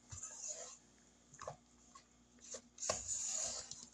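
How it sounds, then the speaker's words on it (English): Scraper dragging around the sides and bottom of a mixing bowl of cashew caramel pound cake batter, a few soft, brief scrapes with gaps between them, quiet and close, no talking. "we're gonna scrape down one more time with our scraper"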